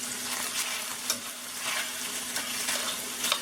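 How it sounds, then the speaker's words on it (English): Garlic and mushrooms cook in a pan for a creamy Tuscan chicken pasta, giving a continuous close bright sizzle and crackle with small spatters throughout. "We're going to throw our garlic in and our mushrooms"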